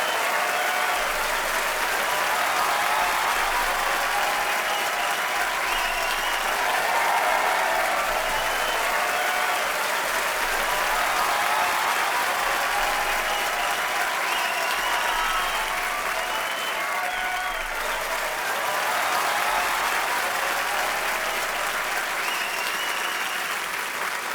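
A studio audience on The Kapil Sharma Show, a TV comedy show, claps long and steadily for arriving guests, a dense loud applause that holds evenly for over twenty seconds.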